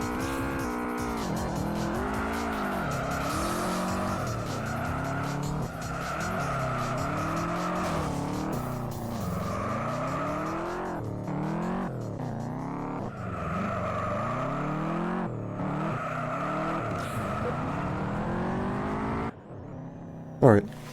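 Race car in Juiced: Eliminator, its engine droning and rising through repeated gear sweeps with tire squeal, loud and continuous for the whole stretch before a brief thump at the end.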